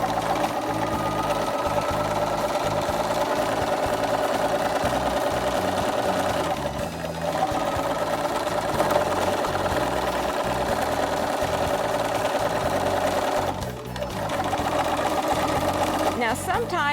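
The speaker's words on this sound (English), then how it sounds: "continue to stitch all the way around my hem that has been pressed in place for me" A sewing machine stitches around the pressed hem of a pair of jeans, a steady, fast mechanical chatter that runs close and loud almost without a break, easing off briefly twice.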